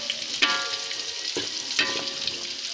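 Eggplant stir-fries with salted fish and green and white pepper in a pan, a steady close sizzle with a couple of scraping stirs of the spatula cutting through; no voices.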